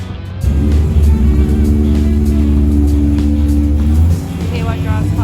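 A car in an Ipswich, Queensland car park area drives past close by, a loud sustained engine drone with strong low rumble lasting several seconds before easing off, with a voice talking over it.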